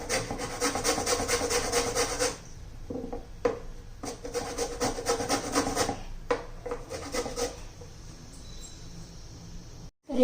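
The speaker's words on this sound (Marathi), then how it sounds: "सगळा भोपळा मी असंच किसून घेते" A red pumpkin is grated by hand, loud rhythmic rasping strokes coming in quick bursts up close, pausing briefly, then resuming more unevenly and softer toward the end.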